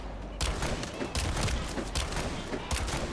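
Hand cannon gunfire in the video game The First Descendant comes as dense, rapid volleys of shots in bursts, loud and continuous with brief gaps.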